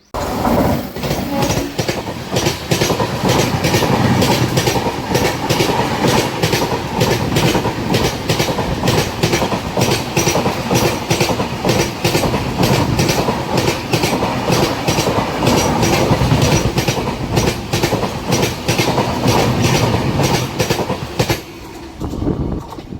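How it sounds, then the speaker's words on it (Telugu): A Thiruvananthapuram North–Hubli weekly express train passes close by at a railway station, its wheels clattering loudly and steadily over the rail joints for about twenty seconds before the sound drops away. "ఇప్పుడు మనం ఒక ట్రైన్ ఓవర్టేక్ చేసి చూసారా ఆ ట్రైన్ వచ్చేసి తిరువనంతపురం నార్త్ నుంచి హుబ్లీ వెళ్ళే వీక్లీ ఎక్స్ప్రెస్ అనమాట"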